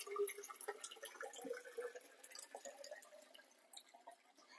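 Water from a DREO filter pitcher trickles and splashes in a light, uneven pour for a few seconds, close by and fairly quiet, with small drips toward the end.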